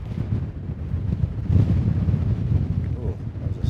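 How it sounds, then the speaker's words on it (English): A strong gust of wind at an abandoned mining camp buffets the microphone, producing a loud, rumbling roar that swells midway and keeps blustering unevenly. "Ooh, that was a strong gust."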